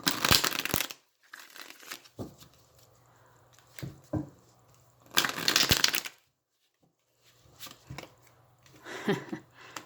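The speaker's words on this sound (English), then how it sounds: "Let me shuffle a few times here." A Cosmic Tarot deck of cards being shuffled by hand, several separate bursts of riffling and crisp card slaps separated by quiet pauses, close and fairly soft.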